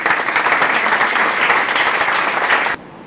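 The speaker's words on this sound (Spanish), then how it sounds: "Lo recibimos con un fuerte aplauso." An audience at an economics lecture on Peru's central bank gives loud, sustained applause to welcome a former central bank director, the clapping steady for nearly three seconds before cutting off abruptly.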